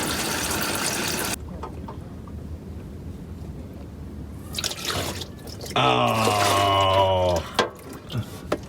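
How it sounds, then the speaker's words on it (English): Dark transmission fluid gushes from a dropped pan into a drain, a steady pouring splash for a moment, then quiet, then a louder stream near the end; a brief exclamation is heard. "Transmission oil waterfall."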